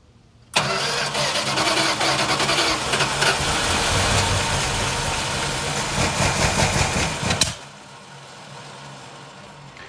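A rebuilt Mopar 360 LA V8 cranks and catches, then runs roughly for about seven seconds with a loud, close, uneven rumble before cutting off abruptly into quiet.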